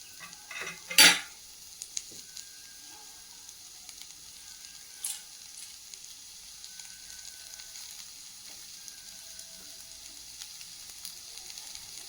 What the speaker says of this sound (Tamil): இந்த ஆனியன் நல்லா வதங்கி வரட்டும்.